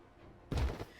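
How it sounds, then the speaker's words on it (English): A single gunshot in the Hakuoki video game breaks a quiet background: one sharp, loud blast with a brief ringing tail, no other sounds around it. "Gunshot resounded again."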